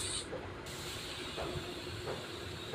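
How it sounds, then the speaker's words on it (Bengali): Bitter gourd (karela) fries in hot oil, a soft, steady hiss with faint crackles, fairly quiet and close. "তিতা করলা আমি তেলের মধ্যে দিয়ে দিয়েছি।"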